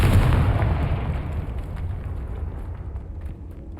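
A Confringo fire spell explodes in Hogwarts Legacy, a loud broadband boom at the start whose rumbling roar slowly fades over several seconds with no speech.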